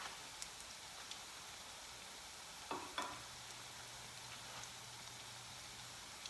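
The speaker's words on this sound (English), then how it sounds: "So I'm gonna let this fry" Cassava fritters (alcapurrias) with crab and shrimp filling frying in oil, a faint steady crackling sizzle with a few soft pops and light clicks, heard alone.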